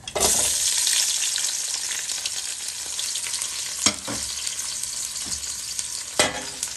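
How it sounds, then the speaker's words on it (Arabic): Three to four chopped onions fry in a pot for Saudi chicken majboos, giving a loud, steady close-up sizzle with a couple of sharp spoon knocks against the pot. "هنحط البصل الاول في الحله."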